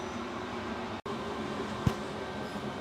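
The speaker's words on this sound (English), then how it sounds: "it's just the heater run because it's absolutely freezing in here" Heater running in a freezing workshop, a steady broadband whirring hum with a low rumble underneath, constant and fairly close, broken by one brief dropout and a small knock.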